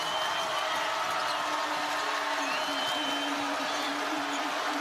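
Steady crowd noise fills an arena during an ASUN semifinal basketball game between Liberty and Eastern Kentucky, a broad continuous roar of cheering and applause held at an even level for the full stretch.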